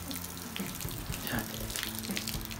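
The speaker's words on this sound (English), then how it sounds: "Now I've flushed the mast out with a bit of fresh water." Fresh water running and splashing as it flushes salt water out of a Hobie 14 catamaran mast, a continuous close gush like a running tap with no talk over it.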